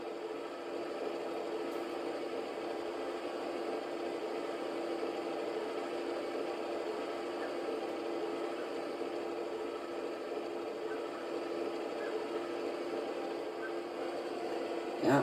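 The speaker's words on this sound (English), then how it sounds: "this is our New Holland Double 9 mower" A New Holland Double 9 mower cutting hay runs as a steady, moderately distant engine drone with a constant mechanical hum, unchanging throughout.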